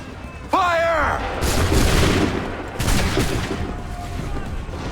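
A musket volley goes off in Assassin's Creed III, a sharp, loud crack right after a shouted command, followed by a second burst and rolling booms, with voices calling out among the shots.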